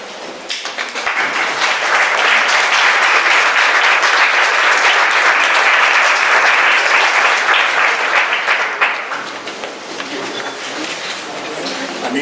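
Lecture audience applauding at the end of an architecture talk, a sustained burst of clapping that swells, holds for several seconds, then tapers off into scattered claps, with a voice speaking afterward.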